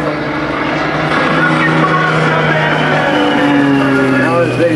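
Propeller aerobatic aircraft of the Iron Eagles team performing a loop at the 2006 Westfield International Airshow, a steady loud engine drone with shifting pitch that runs throughout, with no voices over it.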